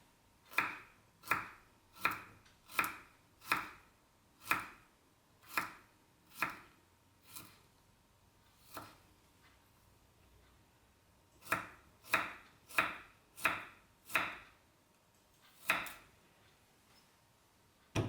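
A knife chops spicy paprika sausage into half moons on a board, crisp steady strokes in two runs with a gap in the middle, close and alone.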